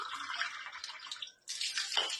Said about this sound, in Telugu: సో ఇప్పుడు మనం ఫస్ట్ వాటర్ అనేది నింపుదాము.